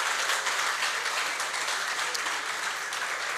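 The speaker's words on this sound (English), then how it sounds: "give a resounding round of applause for our very own Laverne Spencer" A large audience at a manufacturers' quality awards ceremony in St. Lucia breaks into steady, dense applause that stays full and even from start to finish with no voices on top.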